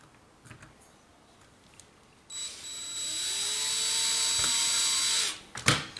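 A high-pitched electric drill whirs steadily for about three seconds after a quiet start, then spins down, followed by a couple of sharp knocks, while replacing a Game Boy cover.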